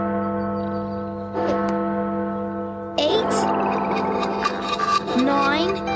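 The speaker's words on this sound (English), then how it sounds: "Is that the town clock? Since when does it have a bell?" A town clock bell in a video game strikes noon, with resonant chimes ringing out over a steady, sustained musical backdrop and a brighter, busier passage of overlapping tones in the second half.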